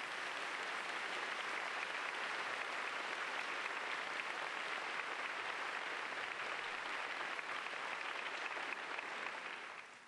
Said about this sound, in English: Give a big round of applause to Mr. Milburn, Sarah North